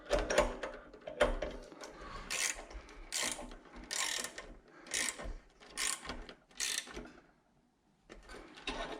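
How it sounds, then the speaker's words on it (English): A ratchet tightens bolts on the brass boiler of a Rancilio Silvia espresso machine, rhythmic bursts of close metallic clicking strokes repeating with brief pauses, no speech. "Okay, once they're all in, we can tighten them. So tighten this one first, not all the way yet,"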